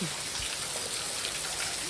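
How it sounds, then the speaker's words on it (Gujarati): Steady broadband hiss of rain falling hard, continuous and even throughout with no breaks. "જોરદાર વરસાદ આવવાનું ચાલુ થઈ ગયું"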